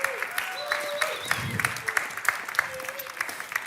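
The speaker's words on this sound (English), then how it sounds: "Maybe we can clap to them as well as they arrive." Sparse, scattered clapping from a small audience at a Helsinki tech panel as panelists come on stage, light and uneven under background murmur and faint voices.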